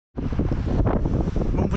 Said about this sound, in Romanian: M-am uitat un pic pe înregistrare, bate vântul. Vorbesc un pic mai tare, că bate extrem.